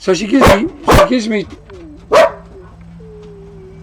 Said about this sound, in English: see that? That's a dog.